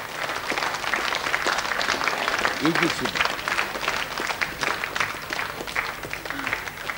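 A studio audience claps steadily through a Russian TV game show, Pole Chudes, with dense sustained applause from a crowd and a voice speaking briefly over it.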